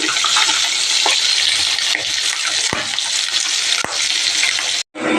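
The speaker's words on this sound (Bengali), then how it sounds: "পাবদা মাছের ঝাল হবে তাই মাছটা একটু ভেজে নিচ্ছি" Pabda fish fries in hot oil, producing a loud, continuous sizzling hiss throughout, with a few sharp utensil clicks, nearby and with no talking.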